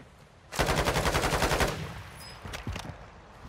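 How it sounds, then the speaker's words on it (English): In a Call of Duty match on Ashika Island, a rapid burst of automatic gunfire rattles out for about a second, followed by a few scattered fainter shots and game noise; no voices over the firing. "Somebody's shooting me from behind."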